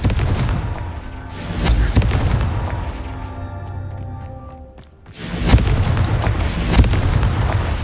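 In Hogwarts Legacy, a Confringo fire spell explodes inside a goblin mine with loud booming blasts and rumbling, a decaying ring between them, then a fresh burst of heavy impacts; no voices accompany the effects.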